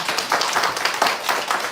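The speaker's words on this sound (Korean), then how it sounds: "박수." A church congregation claps together during a Sunday worship service, a steady, moderately loud patter of many hands that swells in soft rhythmic waves with no voices on top.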